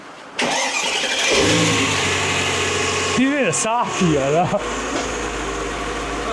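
A car engine turns over and catches at close range, then keeps running at a steady idle, with people talking over it.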